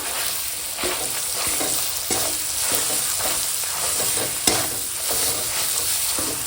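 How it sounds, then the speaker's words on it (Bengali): Ground green pea paste fries in a wok over a tempering of asafoetida and black cumin, giving a steady close sizzle broken by repeated scraping stirs, with no talking. "তো এখন বাটা কড়াইটা দিয়ে দিলাম"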